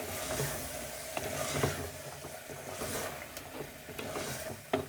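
Beef for aloo gosht fries in a pot, a dense, low sizzle running throughout with scattered soft clinks and scrapes of stirring, fairly quiet, with no talk.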